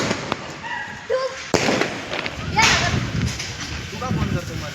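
Firecrackers bursting indoors at home during a celebration of India's T20 World Cup win, giving sharp cracks and bursts among several loud pops, with people talking and cheering throughout.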